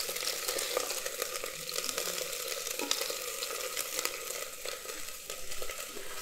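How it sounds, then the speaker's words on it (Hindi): Okra fries in oil for sambhar with a steady, dense sizzle and crackle, close and continuous, without voices. "भिंडी को हम तेल में थोड़ा सा फ्राई कर लेंगे"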